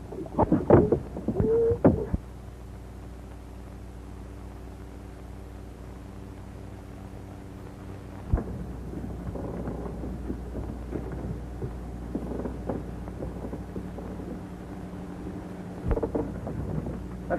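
A thunderstorm at sea in a 1932 film: a low, continuous storm rumble with a steady tonal drone, broken by a few louder cracks near the start and middle.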